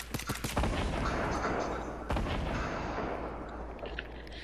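Rapid bursts of video game gunfire crack in a quick cluster at the start, then a single loud shot mid-clip, with more scattered shots trailing off over a rumbling battlefield background.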